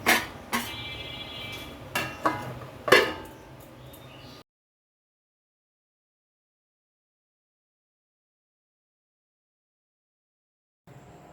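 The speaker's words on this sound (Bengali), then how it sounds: "এবার ঢাকা দিয়ে সবজিগুলো সেদ্ধ হতে দেবো।" A lid goes onto a pot of vegetables cooking for Bengali shukto, giving a few sharp metallic clanks and rattles close by before the sound cuts to silence.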